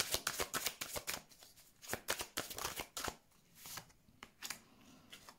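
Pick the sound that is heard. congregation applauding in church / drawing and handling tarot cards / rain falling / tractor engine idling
drawing and handling tarot cards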